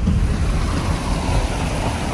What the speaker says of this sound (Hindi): ये ग्लेशियर का पानी आ रहा है,